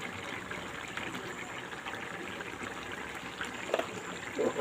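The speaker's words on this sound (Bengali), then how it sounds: "তো এবার আমি পরিমাণ মতো একটু ঘি দিয়ে দেব।" Ghee poured into a pan gives a soft, continuous trickle and faint hiss, quiet and close, with a couple of small clinks near the end.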